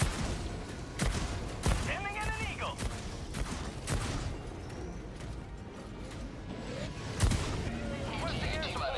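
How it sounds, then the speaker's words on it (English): Heavy autocannon fire from the EXO-49 Emancipator mech in Helldivers 2, a string of loud, booming single shots spaced about a second apart, with explosions, alien bug screeches and battlefield noise between them. "The autocannons can destroy the nest, you can just walk right in the nest and destroy everything."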